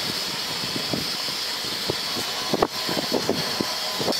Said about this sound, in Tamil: பாருங்க நல்லா கொதிச்சிருச்சு